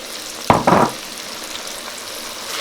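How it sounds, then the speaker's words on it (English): Onions dropped into hot oil with fried ginger and garlic in a katvi, giving two sharp bursts of sizzling up close before settling into a steady, quieter fry hiss. "So the ginger garlic looks fried. To that I want to add the onions."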